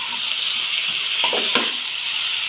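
Pieces of watermelon rind frying in oil over a medium flame, giving a steady broadband sizzle with a few faint stirring clicks near the middle, close and moderately loud, with no talk.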